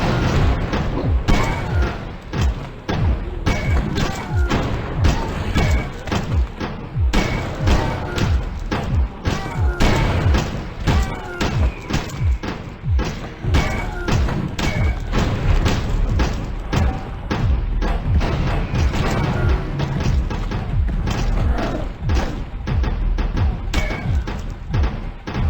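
Quad cannon turret in the video game Decision 2 firing in a rapid, sustained stream of heavy thumps and crashing impacts, loud and dense throughout with occasional talk underneath.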